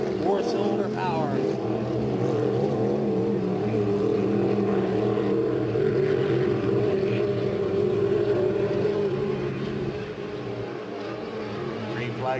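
Hydroplane racing boats, a V8 and a 4-cylinder 2.5 mod hydro, roar steadily across the water at a race in Geneva, NY, with a continuous droning engine note that holds throughout and eases slightly near the end.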